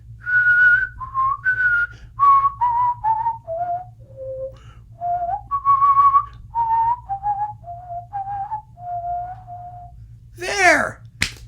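A person whistles the motto theme of Magnard's Fourth Symphony as a slow, clear, close melody of held and sliding notes that steps gradually downward, followed by a brief rushing noise at the end.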